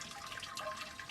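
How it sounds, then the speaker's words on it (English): Water running from the tap of the hot liquor tank on a Grainfather G70 brewing system, a quiet, steady trickling and splashing stream over a few seconds, no voices. "So you turn on the tap, and whatever's in the pump, in the HLT,"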